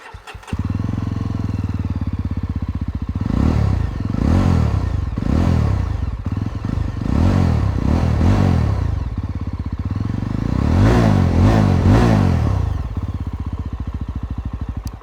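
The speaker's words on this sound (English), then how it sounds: "So that's how the exhaust of the Yezdi Roadster sounds." A Yezdi Roadster motorcycle idles with a thumping beat through its twin exhausts on either side, broken by a string of sharp revs that rise and fall, close and loud, with no talking.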